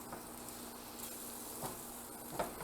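Sauteed apples with lemon juice sizzle softly in a pan while being stirred, a steady quiet frying hiss with faint scrapes of the spoon, no talking.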